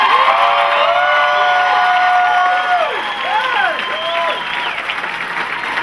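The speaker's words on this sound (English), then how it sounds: "give them a round of applause" A large crowd at a karate event applauds loudly and steadily, with whistles and cheers rising over the dense clapping before it thins slightly toward the end.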